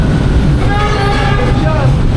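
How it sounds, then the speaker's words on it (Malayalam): An electric Manila metro train pulls into the platform with a loud, steady rumble and a rising motor whine, while voices talk over it throughout. "ഇതേ നമ്മുടെ ട്രെയിൻ വരുന്നു"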